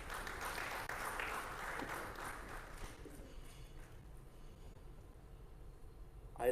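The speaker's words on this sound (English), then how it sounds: "A big round of applause, ladies and gentlemen." Applause from the audience at a trade and logistics business forum in Tanzania, a moderate wash of clapping that fades to quieter, scattered claps in the second half, heard alone and fairly faint.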